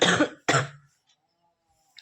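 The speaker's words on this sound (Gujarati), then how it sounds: "ઉધરસ મળતી જ નથી." Two quick, sharp coughs come close together near the start, followed by near silence with only a faint click at the end.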